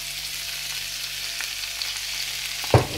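Chicken frying in a little oil in a pan, a steady even sizzle close by, with one short knock near the end.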